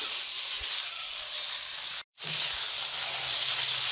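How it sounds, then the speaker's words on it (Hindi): Chicken meat frying in a pan for chicken vegetable soup: a steady, close sizzling hiss that drops out briefly midway, then resumes just as loud. "दो 3 मिनट फ्राई करेंगे ताकि इसकी स्मेल खत्म हो जाए।"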